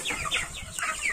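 Turkeys clucking near a greenhouse beside a house, a close, rapid string of several short gobbling calls with no voices.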